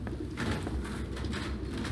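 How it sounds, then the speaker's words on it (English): Pigeons coo steadily inside a building in the Detroit: Become Human video game, a dense, continuous layer of soft low burbling from many birds close by, with no speech over it. "Why are there so many birds in here?"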